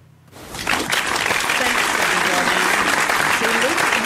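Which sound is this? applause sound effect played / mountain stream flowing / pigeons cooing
applause sound effect played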